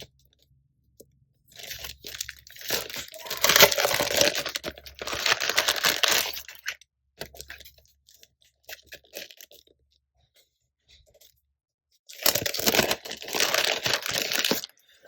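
Washi tape unrolls and die-cut stickers are handled, producing crinkly, papery rustling and crunching. The sound comes in close bursts separated by quiet pauses, with no talking.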